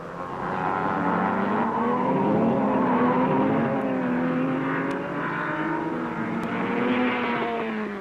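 Several Ferrari race cars at Le Mans, among them the North American Racing Team's private Rodriguez entry number 17, roar continuously at high revs, engine notes rising and falling as they pass in a close, loud battle.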